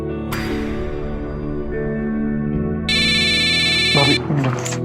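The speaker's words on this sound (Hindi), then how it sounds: "मेरा फोन।" A mobile phone ringtone sounds as a bright, buzzy electronic tone for about a second, rising over a backdrop of dramatic music, with voices nearby.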